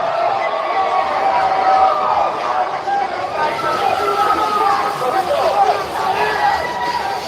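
A protest crowd murmurs and chants outdoors, a steady babble of many voices with some shouting rising and falling throughout.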